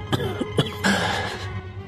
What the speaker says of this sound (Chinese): 他笑了几声，剧烈咳嗽起来